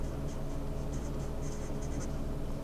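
A pen or marker scratches across a writing surface in short strokes while a butane structure is drawn by hand, faint and close against a steady low hum.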